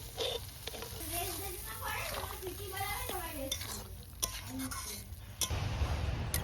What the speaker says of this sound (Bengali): এখন দিয়ে দেবো ভেজে রাখা আলু। মটর সিদ্ধ করে রাখা মটরটাও দিয়ে দেবো।